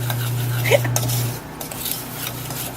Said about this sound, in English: I'm going to add some brown sugar and stir that up so that the sugar kind of melts in with the butter